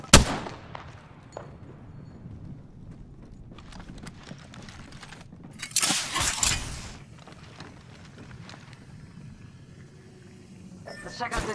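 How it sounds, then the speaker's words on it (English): Gunfire in the battle-royale video game Apex Legends: scattered sharp shots and clattering mechanical clicks, with a dense, louder burst of fire midway, over a low game ambience and occasional voices. "Listen up, I'm getting shot at."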